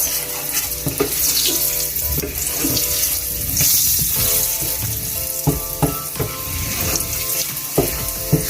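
Curry sizzles loudly and steadily in a pot as it is stirred, making a continuous hiss broken by scraping and clinking knocks from the spoon against the pot.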